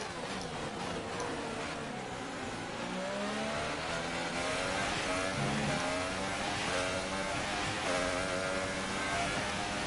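An F1 race car lapping the Japanese Grand Prix circuit in the F1 2018 video game, its engine revving loudly and continuously with rising and falling pitch through gear changes, near and steady with no talk.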